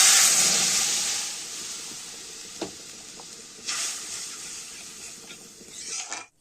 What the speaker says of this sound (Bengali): একটুখানি 5 ফোড়ন দিয়েছি আর পেঁয়াজ ভেজে নিচ্ছি